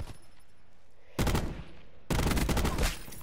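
Two sharp, loud shots from a fast-firing sniper rifle in Call of Duty Black Ops 4, each a heavy crack with a ringing tail, about a second apart over low background noise.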